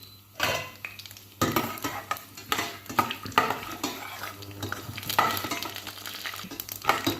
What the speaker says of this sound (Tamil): உளுத்தம்பருப்பு, கடலைப்பருப்பு, வேர்க்கடலை இதையும் ஆட் பண்ணிவிட்டு நல்லா நம்ம அதை ஃப்ரை பண்ணலாம்